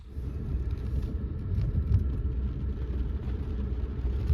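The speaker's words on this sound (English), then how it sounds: "So I'm going to continue driving because it's warm." Car engine while driving on a late-autumn road near Mt Adams, a steady low rumble and road drone heard from inside the cabin, continuous and even, with no talk.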